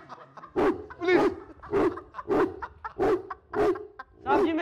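A dog barks in a steady series of about eight sharp, evenly spaced yelps with whimpering tones, fairly close and moderately loud.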